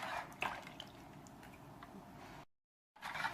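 A glass of juice poured into a bread dough mixture as a soft, steady trickling splash, close and quiet, ending abruptly in a short silence before a brief resumption.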